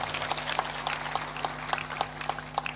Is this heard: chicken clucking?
no